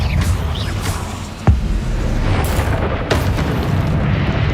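Confringo blasting spell in Hogwarts Legacy sets off a loud booming burst with a sharp attack about a third of the way in, followed by crackling debris and rumble in a busy game soundscape.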